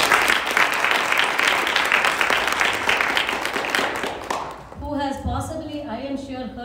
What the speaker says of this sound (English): A big round of applause to the gurus, Guru Sri Haridevana.